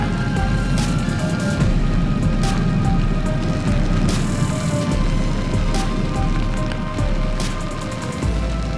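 Steady, dense medium rainfall patters loudly and continuously on a road, with occasional splashes and a low rumble of a motorcycle underneath.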